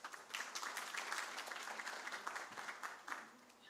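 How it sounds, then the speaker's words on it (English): An audience applauds at a formal launch event for a national food security and nutrition assessment, with steady, dense clapping that holds for several seconds before easing slightly. "A hand clap for Carol Sparks."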